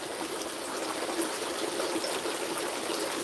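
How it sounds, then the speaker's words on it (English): Water trickles steadily in a sunny garden pond, a soft, even babbling that runs unbroken and close, with no voices. "It's just nice to relax and listen to a bit of water sometimes"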